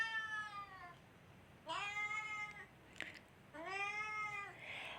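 A cat meows three times in drawn-out, clear calls with pauses between them, close and fairly quiet, with a faint click in one gap and no talk.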